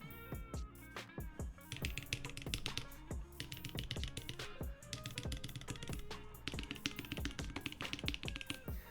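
Steady, fast typing on a mechanical keyboard built in a Discipad case, with dense clacking keystrokes and occasional heavier presses, close up and alone at low volume.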